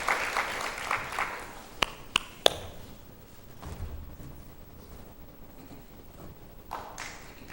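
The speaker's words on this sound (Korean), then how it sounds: "우리 크게 박수로 한 맞이 하십시다." A short burst of crowd applause in a church service at the start, fading quickly into a quiet room with a few sharp taps.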